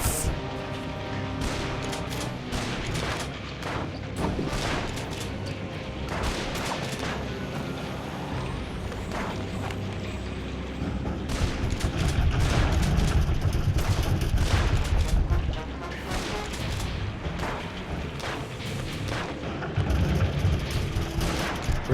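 Repeated gunshots in a Sam and Max episode, Beyond the Alley of the Dolls, a long run of sharp shots and bursts, some rapid volleys, loud and close throughout.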